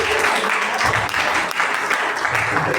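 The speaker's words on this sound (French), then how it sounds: "Acclame Jésus" Steady applause from a church congregation during a worship service, a dense continuous wash of many hands clapping with no clear gaps over its short span.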